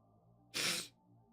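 One close, sudden sneeze bursts out alone for under half a second against a quiet room background.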